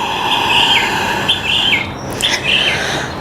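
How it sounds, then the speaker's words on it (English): Birds chirp and sing in repeated bright phrases over a steady background hiss, moderately close with no talking. "Maybe you can hear in the background the birds singing along with our power yoga."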